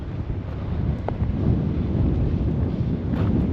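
Steady wind buffeting across a high clifftop, a continuous low roar and rumble close on the microphone, with no voices.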